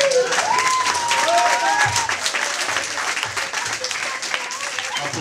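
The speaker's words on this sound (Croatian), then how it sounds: "Aplauz još jedan." Steady audience applause at an evening school entertainment show in a student dormitory hall, dense clapping that carries on for about five seconds, with a few faint whistles and voices mixed into the crowd noise.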